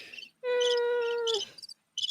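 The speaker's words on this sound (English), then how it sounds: "Crickets." A crickets sound effect plays during a stream: one sustained chirping trill at moderate volume, with a few short bright chirps before and after it and nobody talking.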